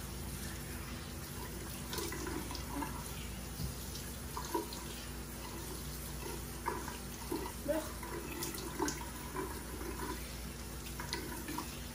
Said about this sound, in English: it just says to rinse product with water